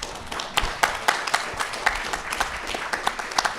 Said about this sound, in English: If you could please give our guests a round of applause.